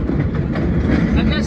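A historic New York City subway train running express rumbles steadily along the tracks with a deep roar and faint clatter, heard from inside, with a voice murmuring beneath the noise.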